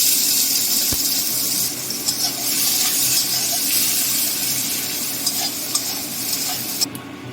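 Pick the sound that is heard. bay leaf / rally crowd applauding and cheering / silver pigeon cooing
bay leaf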